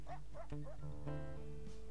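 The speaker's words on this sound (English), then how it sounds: "She even gave me a little bark." In the WolfQuest video game a wolf gives a few quick, soft barks and yips over a constant low game hum, then a longer whining tone follows.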